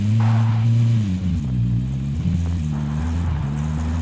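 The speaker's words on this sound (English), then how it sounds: "We do have a vehicle, thankfully. So let's hop in it and go for a ride." Vehicle driving in the Warzone battle royale game: a steady engine drone with low harmonic tones that dip and rise as it shifts and turns, close and continuous, no talking.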